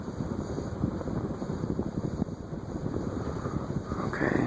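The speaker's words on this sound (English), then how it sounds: "These use a stamp spinner motor. Yeah, there's some bearing noise developing." A Nutone Verandah II PFD-52 ceiling fan with a stamped-stator spinner motor runs steadily, a continuous whooshing hum with developing bearing noise, close and unbroken throughout.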